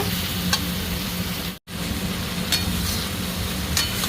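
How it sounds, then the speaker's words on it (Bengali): Tomatoes with cumin and coriander powder frying in a pan for an aloo barbati (potato and long bean) dish, a continuous close sizzle broken by a brief silent gap, with occasional sharp spatters and no voices. "এতে এখন দেবো টমেটো, জিরে ধনে পাউডার। এর সাথে ভালো করে ভেজে নেব।"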